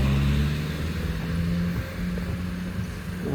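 Car engine running with a steady low drone and faint revving, close by in a Sanary-sur-Mer street during a Christmas event, continuous throughout with no voices.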